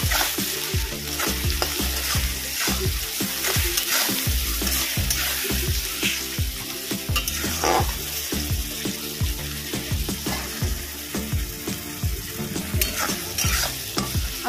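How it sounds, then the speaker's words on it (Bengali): Chital fish paste frying in a pan while being stirred for Bengali muitha, a steady close sizzle with repeated scraping strokes of the spoon throughout. "এবার এটাকে ভালো করে ভেজে নেব।"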